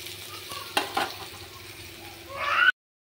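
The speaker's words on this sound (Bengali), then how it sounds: "এখানে মাছ ভাজা হচ্ছে" Fish frying in a pan in a home kitchen, a soft sizzle with a couple of sharp stirring knocks, rising to a louder hiss just before it cuts off.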